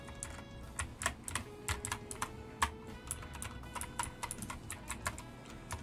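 Computer keyboard keys clicked during video game play, a quiet irregular patter of sharp taps in short bursts with pauses between them.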